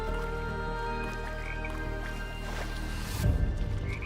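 Frogs croak in The Talos Principle 2 game, a low rattling chorus set within a dense, steady ambient game soundscape, with a louder rustling burst near the end.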